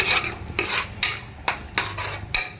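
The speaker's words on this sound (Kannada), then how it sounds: "ಹೀಗೆ ಬಾಡಿಸ್ತಾ ಇರ್ತೀವಿ" Masala paste of garlic, peppercorns, cinnamon, cloves, coriander leaves and mint being sautéed in a pan for egg biryani, with a steady sizzle and about six rhythmic scraping strokes of a spoon against the pan, close and clear, no talking.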